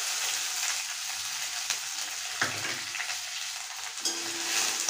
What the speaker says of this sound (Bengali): তো একসঙ্গে এটাকে একটু তেলে ভেজে নেব।